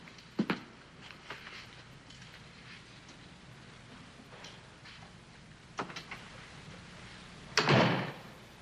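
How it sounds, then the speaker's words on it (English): Door being closed in an old suspense radio-style drama scene, a quiet room with a few faint knocks early, then a sharp, louder thud of the door shutting near the end, no talk. "Well, I'll close the door myself."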